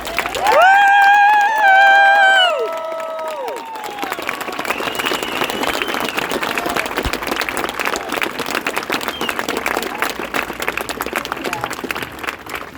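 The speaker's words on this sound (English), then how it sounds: "You got to make sure you clap loud enough for every single one of them to hear you" A crowd claps and cheers for veterans boarding a bus on an Honor Flight morning, opening with a loud tonal horn or whistle blast over the noise, then settling into sustained steady applause from many people.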